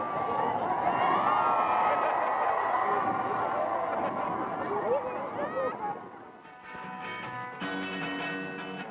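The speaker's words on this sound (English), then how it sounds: "the winners receive their reward, enthusiastic acclaim by the crowd" A Greenland crowd gives enthusiastic acclaim to returning racers, a dense wash of many voices and cheering that fills most of the clip before thinning out near the end.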